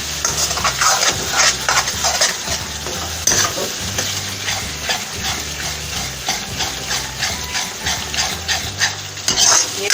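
Whole red chillies with crushed roasted cumin and coriander frying in a pan for chicken karahi: a steady close sizzle broken by rhythmic stirring scrapes throughout, with no talking.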